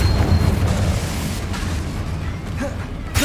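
Confringo explosive spell blasts in the Hogwarts Legacy video game, a dense, continuous low rumble of bursts and booms with scattered crackles, loud and close throughout.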